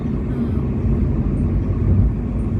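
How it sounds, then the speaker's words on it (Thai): An airplane landing at Don Mueang airport in Bangkok, heard from inside the cabin as a loud, steady low engine and air rumble with no break. "กำลังแลนดิ้งแลนดิ้งลงแล้ว"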